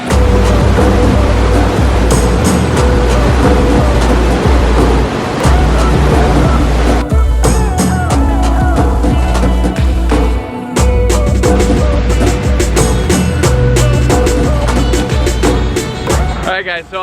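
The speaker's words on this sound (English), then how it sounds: "look how strong the river is because of all the rain we've had." A strong river swollen by rain rushes in a loud, continuous roar close by, with wind buffeting the microphone and a voice speaking faintly under the water noise.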